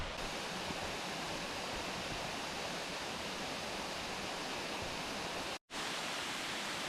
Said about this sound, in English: Not too bad, and the waterfall is just around the corner.